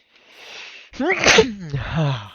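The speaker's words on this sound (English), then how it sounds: "Oh, I feel a sneeze." A single close sneeze: a breathy intake followed by a sharp, voiced burst that trails off.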